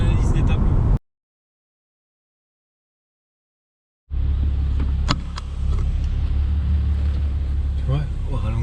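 A Chrysler Crossfire idles with its exhaust rumbling inside a garage, a steady deep resonant drone, near and loud. A brief earlier burst is cut off by a gap of silence before the idle resumes.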